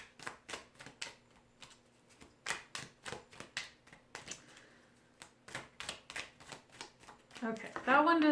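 Tarot cards being shuffled in quick riffling bursts, a steady series of crisp flutters close by, followed by a brief voice at the end.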